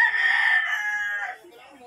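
A rooster crows once nearby on a farm, a loud drawn-out call that trails off in under two seconds, with no talk over it.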